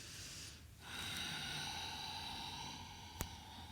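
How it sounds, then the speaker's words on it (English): A nasal Ujjayi breath during a yoga flow: a soft, hissing, snore-like exhale through the nose after a brief pause, quiet and close, with a faint click near the end. "your Ujjayi breath is that snoring exhale through your nose if you can"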